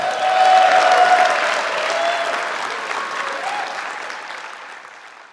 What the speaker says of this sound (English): A big warm round of applause for my guest co-host, Adam Zoller